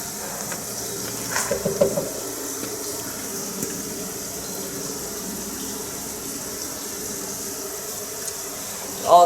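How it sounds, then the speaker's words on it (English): Water running into a car radiator during an oil cooler retrofit, a steady low trickle and gurgle throughout with a few brief louder splashes and clanks near the start and end. "I can hear it filling the radiator up."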